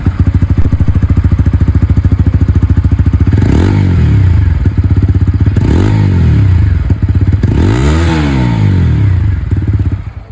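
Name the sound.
Bajaj Pulsar N160 motorcycle bullpup exhaust sound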